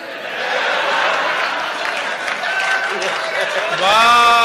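An audience at a Hindi comic poetry gathering claps and chuckles in a steady wash of applause, with a voice breaking in at the end.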